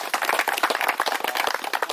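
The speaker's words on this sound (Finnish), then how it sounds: "Annetaan aplodit järjestävälle seuralle" Applause for the organizing club after a group competition: a crowd clapping steadily and densely for about two seconds, close and fairly loud, with no talk over it.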